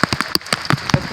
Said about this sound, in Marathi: फायनली पाऊस आला.